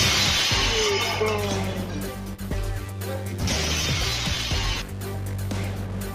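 A large glass wall shatters as a panicked deer crashes through it, with loud crashing and tinkling bursts of breaking glass over a dense, continuous background of music.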